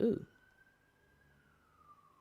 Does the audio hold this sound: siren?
yes